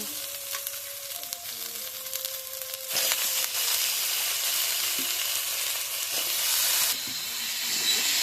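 Washed potatoes dropped into a pan of frying spices for a pangas fish and potato curry set off a sudden loud, steady sizzle after a few quiet seconds of light kitchen sounds, with brief clatters of stirring.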